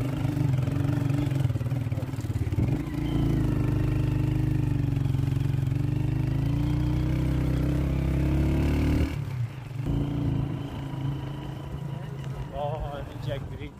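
A motorcycle engine runs steadily at a low, humming idle with a strong droning tone, drops in level partway through and then carries on more quietly, with a voice talking over it.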